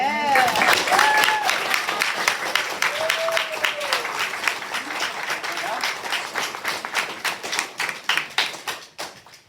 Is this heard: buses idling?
no